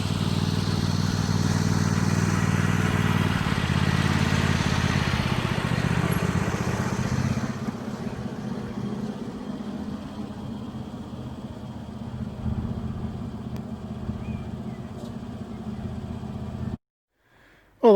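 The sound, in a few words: Little Red Tractor engine running after service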